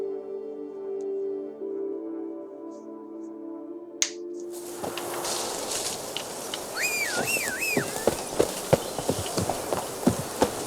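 Hooves clip-clop on the ground in The Witcher 3 as the horse Roach trots up, a quick run of sharp, evenly spaced hoofbeats following quiet ambience and a whistle-like tonal sweep.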